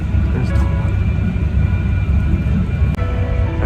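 A loud, steady low drone fills the cabin of a nearly empty Singapore Airlines airliner in flight, an unbroken engine and air rumble with faint voices beneath it.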